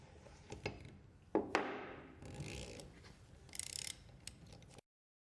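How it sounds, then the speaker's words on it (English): Mechanical clicks and ratcheting as a puller forces the locking pin out of a Volkswagen Amarok rear differential during axle repair, with sharp knocks and a grinding scrape in a quiet workshop, no talk. "Then force the pin out with the puller."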